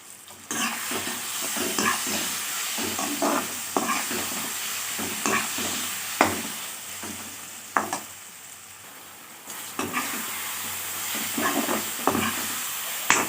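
Tamarind pickle ingredients with salt fry and sizzle in a pan, with a steady hiss broken by repeated scraping strokes of a spoon or spatula stirring the mixture up close.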